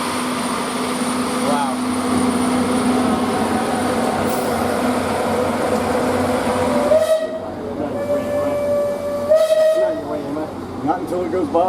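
Mount Washington Cog Railway train, including steam and diesel engines on the mountain line, rumbling past close by with a broad mechanical roar, metallic squeals and a brief whistle-like tone, while people chatter nearby.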